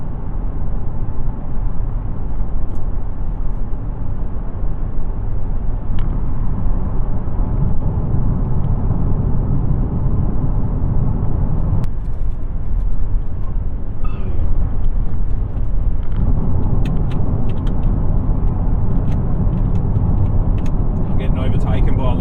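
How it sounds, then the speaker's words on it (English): A small Hyundai car overtakes on a country road near Noble Falls, heard from inside a 2024 Nissan Z as a steady loud road and engine roar that runs throughout, with no distinct pass-by peak standing out. "Overtaken by a little Hyundai."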